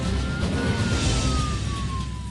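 Fire trucks arrive at a Boeing 747-8 brake test. A single wailing siren tone slides slowly downward over loud, rushing vehicle and wind noise, fairly close.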